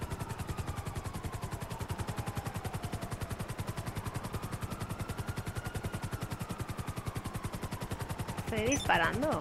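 In GTA V, rapid gunfire from a car window rattles as a fast, regular burst of shots over the constant chop of a nearby helicopter, with a louder clattering flurry near the end.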